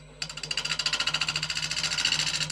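A lathe gouge cuts into a fissured white oak yarn bowl blank, making a fast, loud rhythmic chattering that starts abruptly and pulses steadily throughout.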